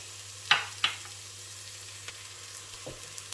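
Chopped chilli fries with onion and garlic in a soup pot, giving a soft continuous sizzle, with two sharp spoon knocks near the start and a few quieter taps afterward.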